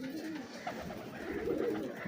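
Sialkoti pigeons of large size coo softly nearby, a low murmuring call rising briefly, fairly quiet and steady.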